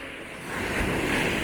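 Ocean waves at night on the beach at Cape May Point State Park, a steady broadband rush of surf that swells louder midway as the water washes up the sand, with some wind noise and no talking.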